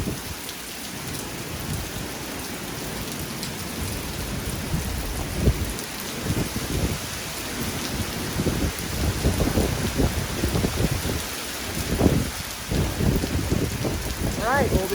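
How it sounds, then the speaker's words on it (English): Heavy rain from Hurricane Delta blowing down a street in Louisiana at night, a steady loud hiss of downpour with gusty surges and rumbling wind throughout. "you can just see that rain blowing down the street"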